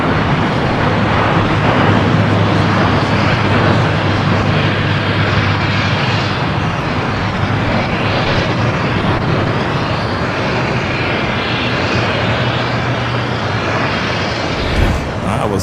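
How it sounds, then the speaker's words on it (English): A United Boeing 787-9 Dreamliner arriving at Los Angeles from Hong Kong, a broad, loud, continuous jet roar with a low engine hum underneath, steady throughout and closing with a brief thump. "we do have United Flight 153 coming in from Hong Kong, a 787-9 Dreamliner"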